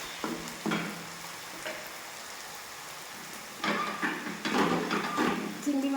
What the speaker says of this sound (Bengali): এবার আমি এটাকে একটু নেড়ে চেড়ে এই তেঁতুলটা দিয়ে দেবো।